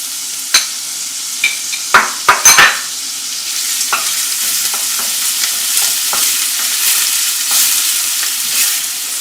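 Finely chopped onion dropped into hot oil for a channa chaat, with a few sharp clatters and splashes at the start settling into a steady, close sizzle with occasional stirring scrapes; no talking.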